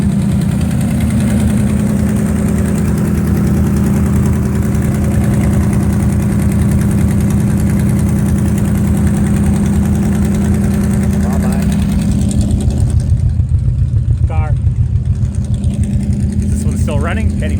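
Cockshutt 555 tractor engine idling after a cold start, a loud, steady low rumble running throughout, with faint voices near the end.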